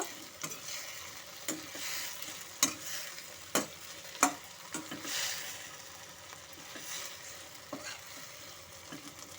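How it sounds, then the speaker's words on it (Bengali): Fried potatoes for a spicy aloo 65 are stirred in a pan with sauce, a quiet sizzle punctuated by repeated sharp scrapes and clacks of the spoon against the pan, irregular and fairly close. "এখন আমি এর মধ্যে দিয়ে দেব ভেজে রাখা আলুগুলো দিয়ে ভালো মতো করে নাড়িয়ে নেব"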